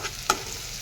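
Onions softening in a pan over a gas stove, a low steady sizzle broken by a single sharp clink of stirring near the start, with no voices.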